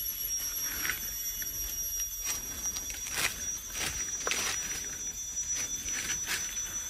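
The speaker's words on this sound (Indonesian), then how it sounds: "Itu bunyi hewan." Malaysian forest ambience with repeated shrill animal calls, short bright bursts over steady high insect-like buzzing, moderately distant and fairly faint.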